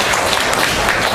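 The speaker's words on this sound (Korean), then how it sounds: "힘찬 박수 부탁드리겠습니다." Audience applause at a labor movement forum panel discussion, a dense, steady wash of many hands clapping that fills the short clip at a strong, even level with no voices.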